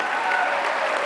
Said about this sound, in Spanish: Nuestro hermano Armando, le damos un fuerte aplauso en esta mañana.